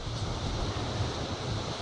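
A small waterfall on a river during a morning walk gives a steady, close rushing of falling water with an even roar throughout and no voices.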